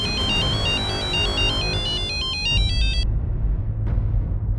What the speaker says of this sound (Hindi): शिंदे का फोन था